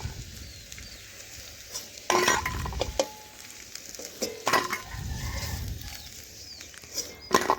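Fried potatoes are lifted from hot oil in a home kitchen; a low sizzle runs under sharp metal clinks of a utensil against the pan, with bursts of stirring and scraping.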